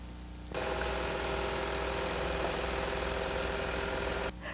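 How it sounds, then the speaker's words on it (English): A Baby Lock Imagine serger test sewing, starting abruptly and running at a steady high-speed mechanical whir for about four seconds before stopping, close and alone. "Test sew to be sure a thread chain is forming."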